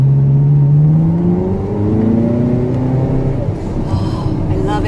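Ferrari engine accelerating from inside the car as the driver presses the gas, a loud rising drone that climbs in pitch, with voices talking over it.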